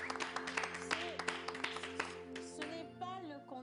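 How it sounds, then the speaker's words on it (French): Applause from a studio audience at a televised singing competition sounds as a quiet, patchy run of claps mixed with sustained musical tones and voices, thinning out toward the end. "Ce n'est pas le candidat qui a été applaudi, c'est le coach."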